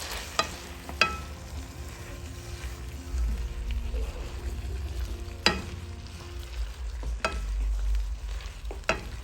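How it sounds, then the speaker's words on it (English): Pineapple beef with spring onion stir-frying in a pan, a steady sizzle broken by several sharp clanks and scrapes of the spatula, close up with no talking. "Now we will add in our spring onion as our garnish and stir fry it together."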